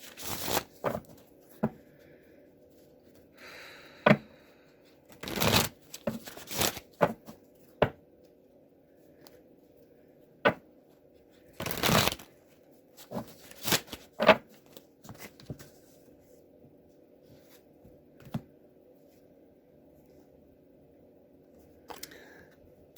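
A deck of cards being shuffled and handled in a quiet room, sharp riffling bursts and brief flurries scattered across the stretch with pauses between them, close and fairly soft.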